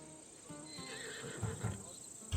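A Macedonian war horse in Assassin's Creed Odyssey neighs in a drawn-out whinny, close by, followed by a few snorts and hoof thuds toward the end.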